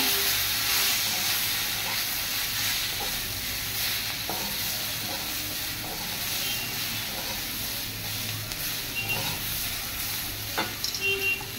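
Vegetables seasoned with salt and turmeric are stirred in a hot pan for a Bengali fish curry, giving a steady close sizzle with soft scraping strokes throughout and no talking.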